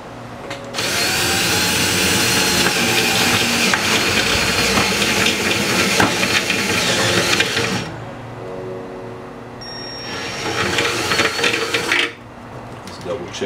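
A stepped drill bit bores through the metal chassis of a basic amplifier build, giving a loud, steady grinding whine for about seven seconds. After a brief pause, a second shorter burst of drilling follows.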